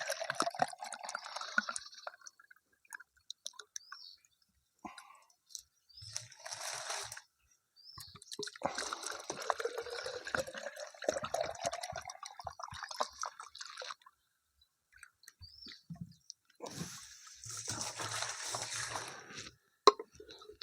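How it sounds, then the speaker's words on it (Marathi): Water poured into a cut plastic bottle, two litres added for a homemade amino acid mix for farm use: intermittent splashing and trickling bursts with pauses between, fairly faint, no talk over it. "आता आपल्याला इथं दोन लिटर फक्त पाणी घालायचं आहे"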